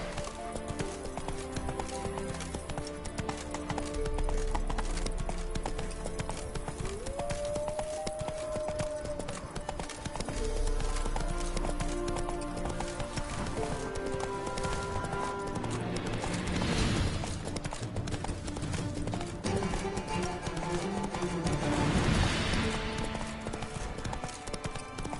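Roach, a horse in The Witcher 3, gallops with rapid, rhythmic hoofbeats clip-clopping throughout under in-game music, with a brief whinny-like rise and occasional louder bursts of movement.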